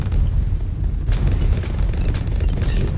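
Repeated explosions from tower attacks in the Bloons TD 6 tower-defence game, a military-towers-only challenge, form a dense, continuous rumble of booms and pops that runs steadily throughout with no speech.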